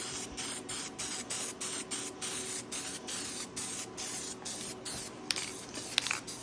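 Spray paint applied in a first coat to a part being repainted black: a continuous close hiss in short repeated passes with brief gaps, plus a couple of faint clicks.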